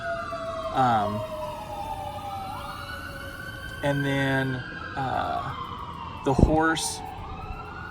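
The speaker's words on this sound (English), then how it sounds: "You can hear the ambulance and the fire truck going by." Wailing sirens from emergency vehicles sweep up and down as they pass nearby, layered over each other while a person talks over them.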